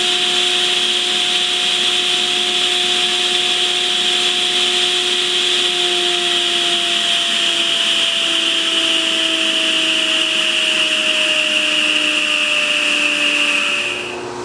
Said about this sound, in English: We'll go ahead and fire up the saw and you can see if it passes the nickel test.